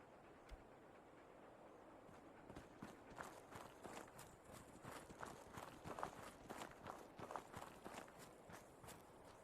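Horse hooves clip-clop across ground in the video game Fallout London, a steady run of close, moderately loud strikes.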